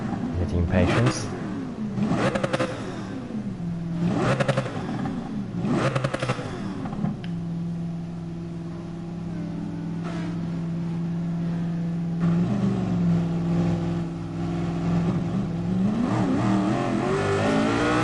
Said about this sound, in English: We can rev the engine with impatience.